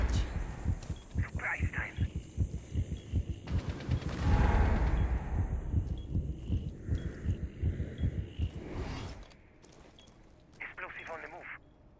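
Finka's adrenaline surge heartbeat effect in the Rainbow Six Siege video game: steady, rhythmic low thumping pulses under game sounds and voices, with the mix dropping quieter near the end.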